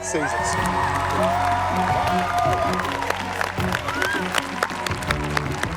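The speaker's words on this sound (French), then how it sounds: "Un tonnerre d'applaudissements pour nos deux finalistes" Studio audience applause and cheering with whoops for the two finalists of the Hell's Kitchen cooking competition, a dense, steady roar of clapping and voices with music running underneath.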